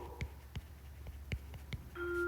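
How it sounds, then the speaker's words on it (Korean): School bell ringing in a Korean classroom: repeated sharp metallic strikes at a quick, slightly uneven pace, moderately loud over a low hum, then a sustained electronic tone near the end. "지금 종이 울리고 있죠."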